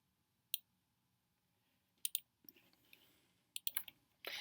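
A computer mouse gives a few sparse, sharp clicks while a font is selected. The clicks come singly and in quick pairs against a quiet room.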